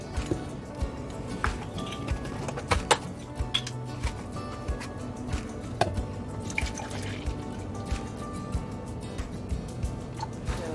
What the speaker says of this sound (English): So I'm going to pour about a cup and a half of this.